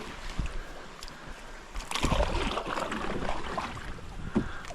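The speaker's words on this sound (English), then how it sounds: "This will be the furthest I've ever had to paddle through lily pads" Paddling a small boat through lily pads on a large lake, with water sloshing, swishing and splashing against vegetation, steady and close, one louder burst of splashing midway and a few sharp knocks.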